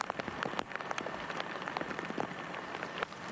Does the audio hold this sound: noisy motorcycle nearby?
no